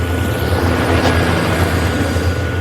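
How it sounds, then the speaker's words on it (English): A helicopter flies down and lands nearby, its rotor and engine giving a loud, steady wash of rumbling noise with no talking. "Skye flew down with her helicopter and she landed right beside them."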